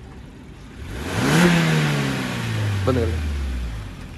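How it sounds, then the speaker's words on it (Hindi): A 2023 Maruti Suzuki Swift VXI engine idles low, then revs up in one swelling rise before settling back down, fairly close, with a brief voice speaking over it. "तो ये इसके अपने इंजन की साउंड थी"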